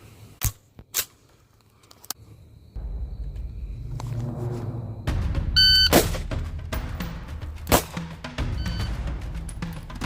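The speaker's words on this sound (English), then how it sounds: "So 1 round from a rifle, transition to pistol, fire 1 round" Rifle and pistol fired on a shooting range in a timed transition drill: sharp, separate reports ring out at intervals, the first shots fairly close together and others spaced over ten seconds against a rumbling outdoor background.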